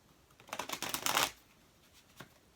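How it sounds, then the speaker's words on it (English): A deck of tarot cards being shuffled by hand, a quick burst of riffling flutter that builds and peaks before stopping, followed by a faint lone tap, close and fairly quiet with no talking. "Let me give this a good shuffle."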